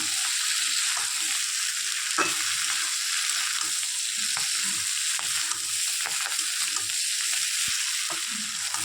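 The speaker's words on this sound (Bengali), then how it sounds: "এই যে মাছগুলো, ভেজে রাখা মাছগুলো এর মধ্যে দিয়ে দিচ্ছি, নাড়িয়ে চাড়িয়ে দেবো।" Fried puti fish with onions stirred in a pan, an even hissing sizzle with light scraping and tapping strokes from a spatula, no voices.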